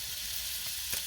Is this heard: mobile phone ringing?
no